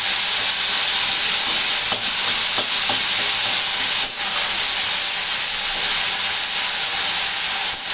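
Tomato frying in a pan, a loud, continuous close hiss of sizzling oil and steam with a few brief scraping dips from stirring, no voices.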